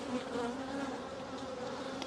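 Honey bees swarm around nuc boxes during spring hive splits, giving a close, steady, unbroken buzzing drone that fills the whole moment with no voices.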